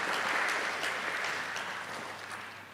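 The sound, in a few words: audience applause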